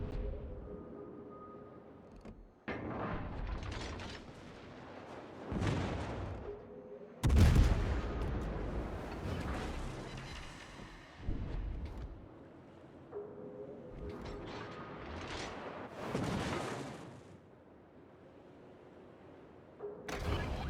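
Naval artillery in World of Warships during a clan battle: a run of heavy booming salvos and blasts, with one especially loud, deep shot near the middle, over a continuous low ship rumble and distant impacts.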